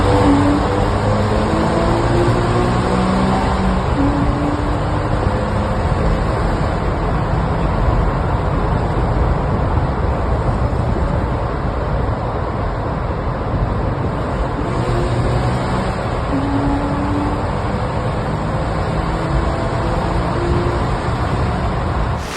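A loud, continuous 2015 Porsche Boxster engine roar echoing in a tunnel, sustained at full throttle with no pauses.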